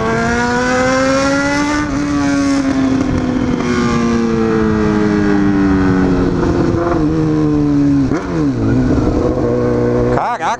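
A Honda Hornet motorcycle with a straight-pipe exhaust runs loud and close, its raspy engine note droning and sliding in pitch, with a sharp rev near the end.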